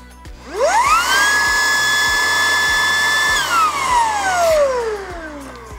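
Redroad V17 cordless stick vacuum cleaner motor whirring up to a steady high-pitched whine, holding for a few seconds, then spinning down with a falling pitch, close and loud.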